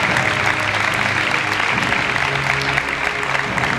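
Loud, steady applause from a crowd greets a football goalkeeper, number 13, at a team presentation event, dense clapping running unbroken for a few seconds.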